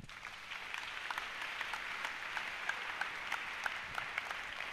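A church congregation claps steadily through a sermon pause, a dense mid-level patter of many hands with scattered sharper claps and no voices.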